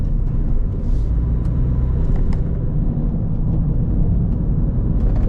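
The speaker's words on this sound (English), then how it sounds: "Pulling away nicely. Turbo's kicking in." A Vauxhall Meriva with a six-speed gearbox pulls away as the turbo kicks in, heard from inside as a steady loud engine and road rumble that stays even throughout.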